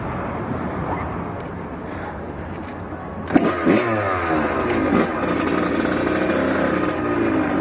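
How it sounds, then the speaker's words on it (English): Kawasaki KX 100cc two-stroke dirt bike engine running close and loud at a gas station, idling steadily and then revving hard about halfway through with rising and falling pitch. "I'm gonna put it in first gear and pop like 2 or 3 wheelies and then put it right back down"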